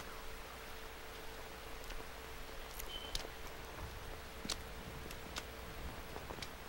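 Steady rain in the Metal Gear Solid 3 video game, a soft continuous hiss with scattered faint drip ticks, a low hum running underneath, and no talking.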